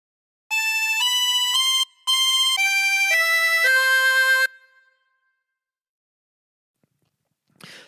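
A chromatic harmonica plays a short phrase of the Star Spangled Banner: a string of sustained, reedy blown notes stepping up and down in pitch, split by a brief breath gap, then fading to near silence with a faint noise at the end.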